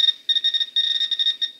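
A Garrett pinpointer metal detector signals on a penny with a rapid chain of shrill electronic beeps in short bursts, close and loud, with a brief gap between groups.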